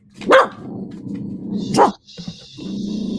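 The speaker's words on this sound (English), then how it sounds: "No, Leila, don't bark." A female dog indoors gives two sharp, loud barks about a second and a half apart, close by, with a low hum and a faint tone in the background.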